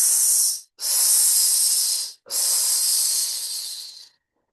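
A person exhales a steady hissing breath during a breathing exercise, three close, loud bursts of hiss separated by brief pauses, the last one gradually tapering off into silence, with no talking.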